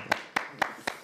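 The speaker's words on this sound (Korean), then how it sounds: "자, 박수." A few people clap slowly in a room after a politician sings a Korean pop song on a talk show, four distinct, evenly spaced claps at moderate volume, with no talking.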